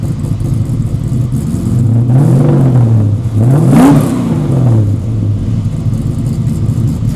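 A cold classic muscle car engine gets a few short revs, the pitch climbing and dropping twice over a steady idle rumble, close and loud.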